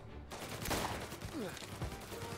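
Gunfire in the Mafia Definitive Edition video game, faint bursts of shots and scattered reports low in the mix, with brief sweeping effects between them.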